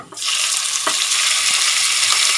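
Chopped garlic frying in hot oil in a pan for stir-fried Thai eggplant with pork neck, a loud, steady, close sizzle that starts abruptly and holds without a break, with a faint stirring scrape partway through.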